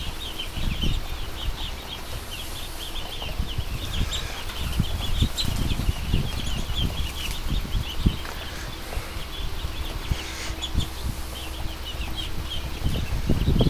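Muscovy ducklings and ducks make a lively mix of soft peeping, clucking and fluttering wings, with shuffling movement that continues close by and fairly steady, and no talk over it.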